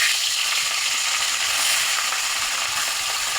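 Pieces of live rohu fish frying in hot oil with broccoli curry to follow, giving a steady, loud, dense sizzle and crackle that fills the whole stretch without any talk.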